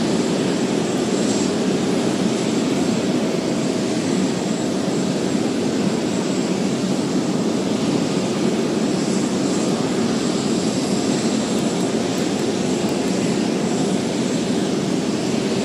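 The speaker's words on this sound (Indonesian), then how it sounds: "sepertinya petugas bandara juga sudah bersiap-siap untuk memberangkatkan pesawat menuju ke Port Moresby" A plane departing an Indonesian airport for Port Moresby, Papua New Guinea, gives a steady, loud jet engine roar with a constant broad rumble and hiss throughout, heard alone with no talking.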